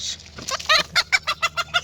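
Free-range village hens cluck close by in a quick run of about seven short, rhythmic clucks after a few rougher calls, loud and clear with no talking.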